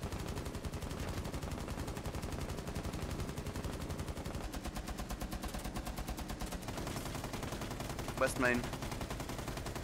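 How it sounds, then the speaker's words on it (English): Sustained light machine gun fire in a video game, a dense rapid stream of shots running nearly the whole stretch with only brief gaps, loud and close, with a few words spoken briefly over it. "Okay, maybe I like firing a lot of bullets without reloading a little bit too much."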